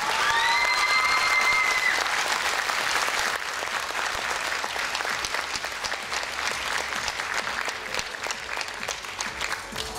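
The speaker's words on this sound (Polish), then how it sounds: "Prosimy jeszcze raz o ogromne brawa." Sustained applause fills the hall at a modern dance championship, a crowd clapping densely and evenly for ten seconds, with a few whistles or cheers early on and no talk.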